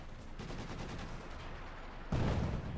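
Cannon fire from a light infantry gun in the strategy game Company of Heroes 2, with a muffled battlefield rumble followed by one sharp, heavy report near the end.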